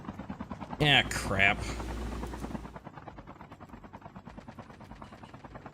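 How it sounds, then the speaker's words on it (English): An enemy helicopter drones steadily in a shooter video game, its rotor thrum mixed with bursts of gunfire, while someone talks briefly over it early on before the helicopter noise carries on alone. "Enemy chopper incoming!"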